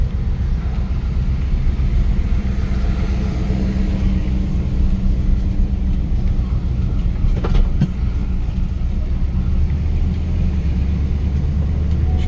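A 1977 Dodge Adventurer SE 150 club cab long-bed truck with a 440 engine driving on the road, giving a steady low rumbling drone with road noise throughout, heard from inside, loud and continuous with no talking.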